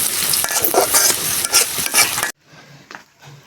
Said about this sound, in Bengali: আমাদের রান্না বান্না চলছে। পেঁয়াজ, রসুন এবং কয়েকটা শুকনা মরিচ একসাথে।